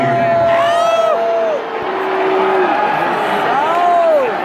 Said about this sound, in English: This is one of the best crowds we've had the whole tour.